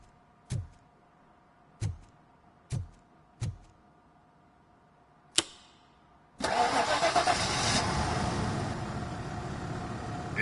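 A car engine cranks in several short separate bursts, then catches and settles into a steady, moderately loud running hum after a repaired ignition coil fault.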